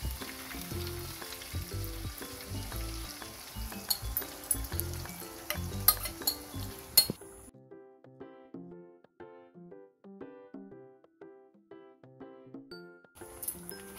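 Spice mixture frying and sizzling steadily in oil in a pan for chicken chaap, with a few sharp clinks of a utensil, then a softer, sparser crackle after a sudden drop in level.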